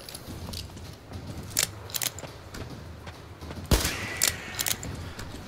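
Gunfire in the video game Metro Exodus: several sharp shots spaced irregularly over a low ambient hum, one louder close blast among fainter cracks, with mechanical clicks between them and no talking.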